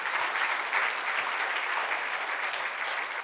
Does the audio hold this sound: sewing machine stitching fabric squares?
no